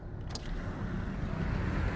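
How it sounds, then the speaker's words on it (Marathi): Wind roars and buffets a microphone held out the window of a car travelling fast on the highway, a steady, dense low rush that continues throughout with no voices. "मी माईक थोडंसं आहे ना बाहेर धरतो, जेणेकरून तुम्हाला बाहेरच्या हवेचा आवाज येईल"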